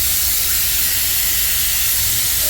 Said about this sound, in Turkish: Şimdi burayı ben bir yıkayacağım.